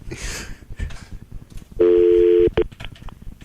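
Telephone keypad tones sound while voicemail is accessed: a long steady dual tone followed by a short second beep, loud and near, with talk and background noise before and after.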